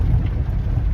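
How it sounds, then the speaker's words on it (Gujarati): Heavy rain pouring during a storm in town, a steady loud rumbling wash with a deep low roar, continuous and unbroken, no voices. "તો ગાઈસ હિંમતનગરમાં જોરદાર વરસાદ ચાલુ છે"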